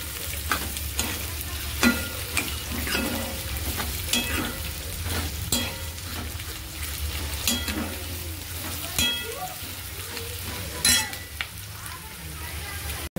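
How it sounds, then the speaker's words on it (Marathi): Onion sizzles and crackles steadily as it browns in hot oil in a pan, with frequent scraping stirs punctuating the continuous frying close by. "कांदा छान ब्राऊन कलरवर ऑइल फ्राय करून घ्यायचा आहे"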